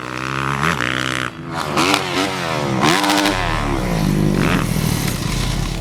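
A gas-powered dirt bike engine revs hard and loud, climbing and falling through several sharp throttle blips before settling into a steady high drone, heard up close with no talking.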